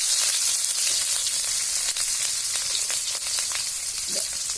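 Onion frying in a pan with mustard and dried red chilies, a steady loud sizzle with crackling bubbles throughout, no talking.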